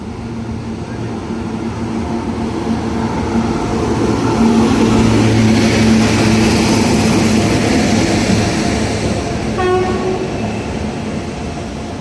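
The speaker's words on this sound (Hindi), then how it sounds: "Bandra Jamnagar Bandra terminus Jamnagar Humsafar superfast express." The Bandra Terminus–Jamnagar Humsafar Superfast Express passes at Surat with a loud, continuous rumble and clatter of coaches. A brief horn-like tone sounds near the end.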